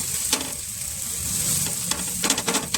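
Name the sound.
bread toast cooking on a pan with ghee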